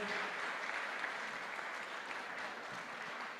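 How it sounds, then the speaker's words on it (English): An arena crowd applauds the winner of a women's squash semi-final at the WSF Under-23 World Championships 2025, a dense and steady roar of clapping that holds at an even level throughout, with no voices over it. "Let's give her a huge round of applause."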